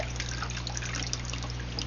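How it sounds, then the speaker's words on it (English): Water poured slowly into the salt-water tank of a DH Lifelabs Aaira Mini HOCl air purifier, a steady close trickle and splash running continuously over a low constant hum. "You just simply slowly pour in water up to the line."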